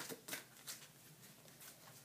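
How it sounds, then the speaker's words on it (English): Tarot cards shuffled by hand, giving a few soft riffling bursts of papery rustle spaced irregularly, quiet and close with no talking. "And I think my cards are pretty much shuffled."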